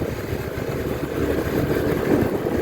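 A Rusi Sparkle 150i motor scooter engine hums steadily up close on a test ride, a continuous rumbling drone that swells slightly as it runs.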